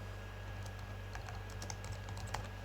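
Keystrokes on a computer keyboard as text is entered into an HTML form field, quick scattered clicks over a steady low hum, no talking.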